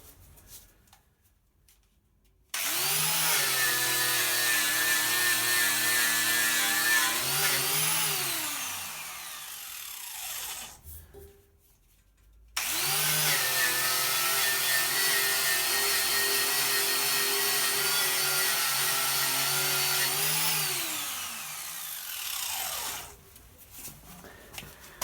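A power tool spins a polishing wheel against a metal part from a BMW R80 motorcycle in two long, loud bursts of whirring grind. Its pitch sags under pressure, with a brief quiet gap between runs.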